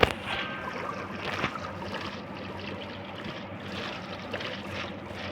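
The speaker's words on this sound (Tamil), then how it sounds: "இப்போ நம்ம போகிறோம் போட்." Boat gliding across water in the Minecraft video game, a steady wash of splashing and rushing water sound that continues evenly throughout with no talking.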